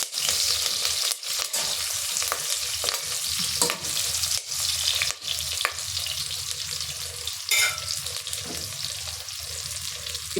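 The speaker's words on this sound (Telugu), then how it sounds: "కొంచెం జాగ్రత్తగా వేపుకోండి గ్రీన్ చిల్లీస్." Green chillies fry in hot oil for a one-pot chicken biryani, giving a dense, steady sizzle broken by brief stirring scrapes and clatters, close and loud without any speech.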